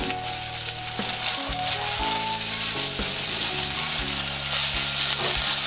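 Chopped carrots and beans sizzle with potatoes in a pan for flattened-rice pulao, a loud continuous fry broken by regular clicks and scrapes of stirring.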